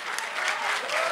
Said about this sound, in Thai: ขอเสียงปรบมือให้ท่านหน่อยฮะ